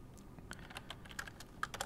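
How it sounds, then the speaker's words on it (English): Keys clicking on a computer keyboard while entering a WLAN configuration command, a quick irregular run of light taps close by and fairly quiet, with no voices. "So we type in WLAN, the name of the SSID, hit enter"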